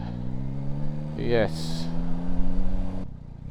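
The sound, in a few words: Yamaha Tracer 9 GT+ motorcycle engine and exhaust revving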